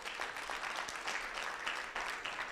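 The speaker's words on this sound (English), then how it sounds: "give one round of applause for the task force members" An audience at an Africa CDC surveillance launch event applauds task force members, a fairly faint but steady spread of many hands clapping, swelling slightly in places, with no speech over it.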